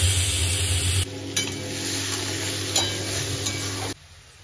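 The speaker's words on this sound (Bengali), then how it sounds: "তেল গরম হয়ে গেছে, এবার আমি চিংড়ি মাছগুলো দিয়ে দেবো।" Prawns fry in hot oil in a kadai with a steady, close sizzle and occasional stirring clicks, the sound cutting abruptly at a few points, over a constant low hum.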